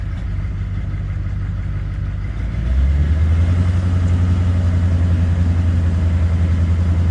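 An LB7 Duramax diesel engine in a 2001-era pickup truck idles steadily, then rises around the midpoint into a louder, deeper and steady high-idle drone that holds to the end, close by with no talk.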